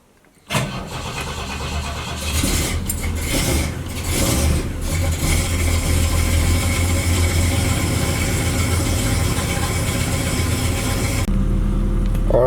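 A cold 1968 Ford Fairlane V8 fitted with Holley Sniper EFI cranks briefly and catches, then runs loud and close at a rough, lumpy idle that settles into a steady rumble.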